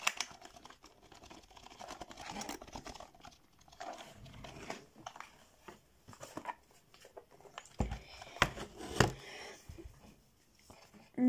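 Keys clack quietly in irregular bursts on a new computer keyboard received as a Christmas gift, heard close but faint, with soft speech-like murmurs in between.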